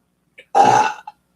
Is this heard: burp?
yes